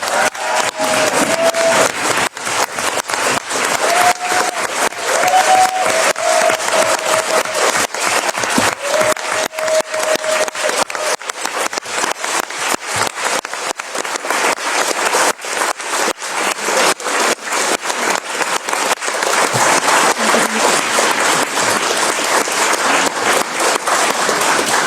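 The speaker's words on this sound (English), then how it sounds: "I think the applause says it all" A conference audience gives sustained, dense applause after a speech on sex workers' rights in Europe, loud and continuous for the full length, with a few faint voices briefly audible early beneath the clapping.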